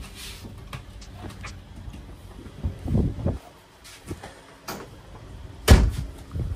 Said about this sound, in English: So you can see when we close this door, we've got a place for a pin.